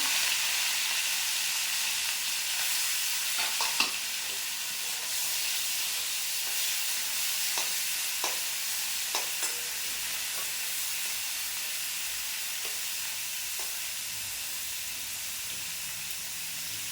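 Shelled prawns fry in a pan for a jackfruit and prawn curry, giving a soft, continuous sizzling hiss with scattered small crackles and pops. The sound is fairly quiet and steady, with no talking.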